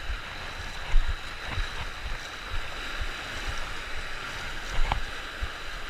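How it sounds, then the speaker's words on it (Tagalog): Strong sea waves surge against a rocky shore where someone is fishing, a constant rushing wash with occasional heavier thumps of water breaking among the rocks. "Medyo malakas ang alon."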